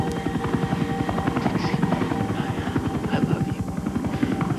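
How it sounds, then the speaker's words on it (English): A helicopter thuds overhead, its rapid rotor chop loud and steady throughout, while a voice speaks briefly underneath. "That's a helicopter."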